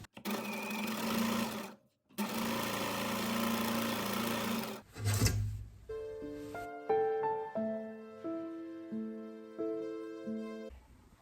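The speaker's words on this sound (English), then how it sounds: "so I'm just going to follow my line and do straight stitch" A sewing machine stitching straight lines along fabric tucks, with two long steady whirring runs close up, then a quieter stretch of short stop-start bursts and a music-like melody in the background.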